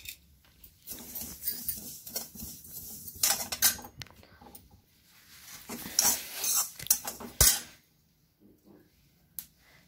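Sesame seeds being dry-roasted in a pan for til gajak, heard as bursts of scraping and clinking from a stirring spoon against metal with short quiet gaps, ending in near silence.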